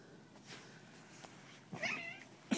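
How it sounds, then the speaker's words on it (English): A house cat gives short, close meows and a brief caterwaul as it is pushed away from a baby cockatiel, with a few soft bumps between the cries. "that was me pushing the cat away"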